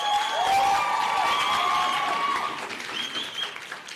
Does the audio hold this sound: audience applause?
yes